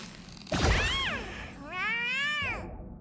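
A soft thump comes first, then two clear cat meows from Honkai: Star Rail, one short and falling and one longer and sustained, both close and prominent.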